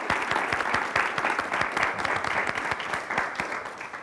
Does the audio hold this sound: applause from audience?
yes